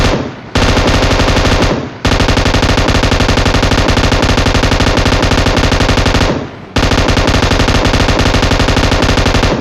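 Automatic gunfire in the mobile game PUBG Mobile, loud sustained rapid bursts of shots broken by two brief pauses, no talking.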